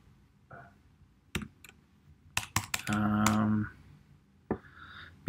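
Keys clack on a computer keyboard in scattered bursts, a few isolated taps and then a quick run of strokes close by, with a short stretch of hum or noise in the middle and brief voice sounds near the end.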